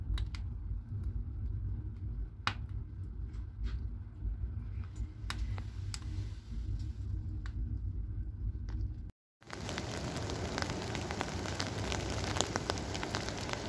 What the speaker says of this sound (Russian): Такой тихий-тихий дождь.